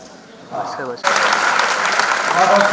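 Audience applause breaks out suddenly at the Nayii Udaan talent show, a dense, loud wash of clapping that sustains after a brief spoken lead-in.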